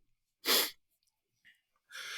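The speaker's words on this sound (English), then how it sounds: "I'm going to sneeze." A single sharp, loud sneeze bursts out, followed by a faint breath and then a rush of breathy air.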